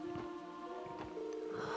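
Steady rain falling across a city in the video game Trails to Azure, a constant wash of patter with faint background music tones running through it.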